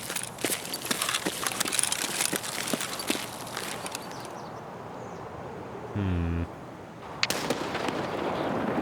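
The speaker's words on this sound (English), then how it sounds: "And a flashbang." Distant gunfire and explosions in Escape From Tarkov, scattered cracks and pops over a hissy background, then a quieter stretch broken by a brief tonal burst and a sharp bang near the end.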